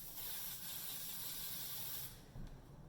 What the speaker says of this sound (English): Also my scissors I spray down with this as well.